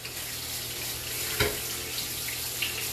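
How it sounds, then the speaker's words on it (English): Tap water runs steadily into a kitchen sink while hands are washed beneath it, a constant close splashing hiss with one brief louder splash midway, no voices. "I'll wash my hands, y'all."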